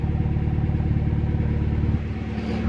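A car engine idles steadily while warming up after a rebuild, a close, even low rumble with faint clatter that holds constant and dips slightly near the end.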